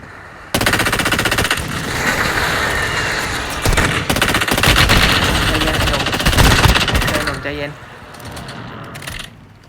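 Sustained, loud rapid-fire gunfire from the video game Warzone Mobile, dense automatic bursts running nearly nonstop for several seconds with booming impacts, then tapering off near the end.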